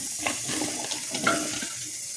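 Water running and splashing into a pressure cooker while cooking white pumpkin for a Kerala morukootan, a steady, fairly quiet pour with small bursts, no talking.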